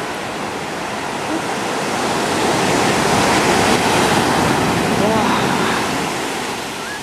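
Ocean waves breaking on a Spanish shore, a loud continuous rushing wash that swells toward the middle and eases off, with no other sounds over it.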